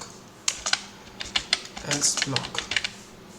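Computer keyboard keys are pressed for select all, copy and paste: a handful of sharp, close clicks in quick irregular clusters over quiet background.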